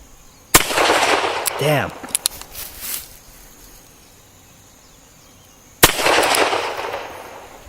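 Shots from an old gun crack out sharply, one loud report near the start and another about five seconds later, each trailing off into a brief rumble, with a voice speaking between them.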